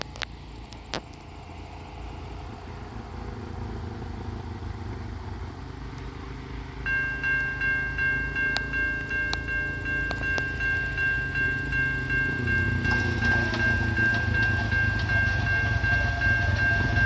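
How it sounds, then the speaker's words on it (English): A southbound intermodal freight train led by CN locomotives rumbles steadily past a railway crossing at Queensville Sideroad, with loud continuous wheel and engine roar, crossing bell tones ringing throughout, and the noise building as the cars pass close by. "The next train was another southbound intermodal, led by CN 2273 and 5691 trailing second"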